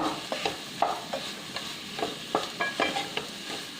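Jackfruit seeds with about a quarter cup of grated coconut are stirred in a hot pan, a spatula scraping in quick repeated strokes over a soft sizzle, close and fairly quiet.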